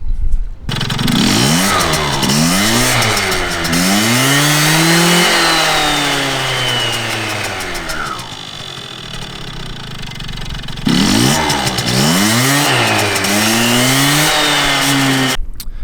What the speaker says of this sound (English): All right, now we're gonna start this thing up